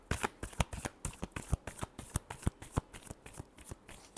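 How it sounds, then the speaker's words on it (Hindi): Tarot cards being shuffled by hand, a steady run of crisp riffling snaps and soft flutters, close and fairly quiet, with no talking over them. "Last shuffle."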